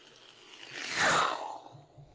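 A voice makes a rising and falling whooshing rush that swells loudly in the middle and fades out, imitating an airplane passing overhead.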